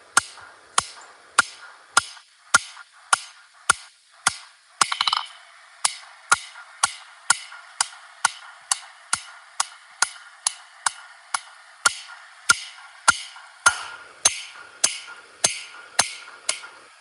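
Steady, evenly spaced metallic hammer blows ring out on an anvil, about two per second, sharp and close, with no talking.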